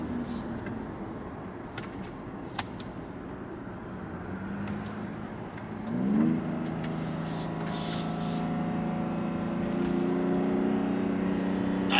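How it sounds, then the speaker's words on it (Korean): A BMW X4 M with a 510-horsepower engine drones steadily from inside the cabin, then its pitch climbs as the driver presses the throttle around the midpoint and the engine holds a louder, rising hum under light road noise. "순간 가속 어떤지 저기를 지나서 한번 밟아 보도록 할게요."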